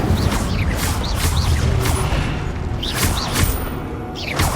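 Incendio fire spell cast in Hogwarts Legacy, a dense roar of fiery bursts and whooshes with booming impacts, loud and sustained, amid other combat effects.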